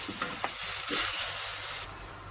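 Lamb meat frying for Turkish kavurma-style roasted rice, a steady close sizzle that surges into a louder hiss midway with a few stirring knocks, no talking.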